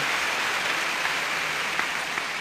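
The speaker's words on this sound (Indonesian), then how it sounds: "Tepuk tangan sekali lagi untuk pasangan yang luar biasa ini." Renewed applause from an audience at a Buddhist gathering for a couple, a steady, crowded patter of clapping heard alone at an even level with a few sharper claps standing out.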